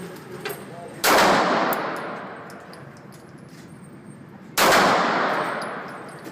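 A Sig Sauer P226 pistol fires two loud, sharp shots spaced about three and a half seconds apart, each trailing a long reverberant tail, with faint background clatter and no talking between them.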